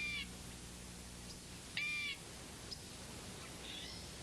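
A crow caws a few times, one call loud and close, the others fainter and more distant, against a quiet outdoor background.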